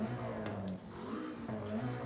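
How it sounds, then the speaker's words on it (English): A Ford Puma rally build with a turbo rally engine revs and roars steadily in Forza Horizon 5, a continuous close engine drone with slight pitch shifts and no talk. "It definitely sounds more like a rally car now."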